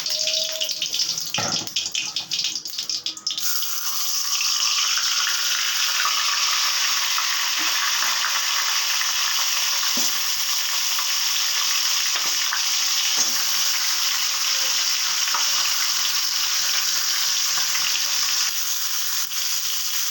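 Fish heads rubbed with salt and turmeric frying in hot oil make a loud, steady hiss and crackle up close, with a few brief clatters at the start and faint stirring noises.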